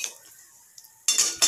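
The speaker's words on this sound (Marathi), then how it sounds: "पुरण हे आपण व्यवस्थित परतवून घेऊ" Puran filling being stirred in an oiled kadhai, where a quiet stretch gives way to two loud metallic scrapes of the spoon against the pan near the end.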